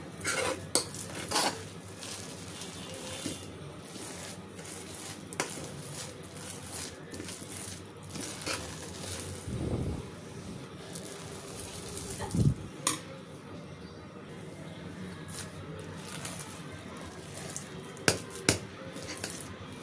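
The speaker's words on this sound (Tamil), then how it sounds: "நல்லா ப்ரெஸ் பண்ணி மிக்ஸ் பண்ணுங்கள்." Chakkarai pongal being pressed and mixed in a pot with a spoon, giving repeated scraping and clinking utensil knocks, close and moderately loud, with a couple of heavier thumps and no speech.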